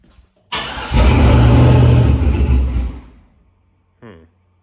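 A GMC Sierra truck fitted with a big turbo kit cranks and fires up loudly, surges and revs for about two seconds, then dies away. A brief short voice follows near the end.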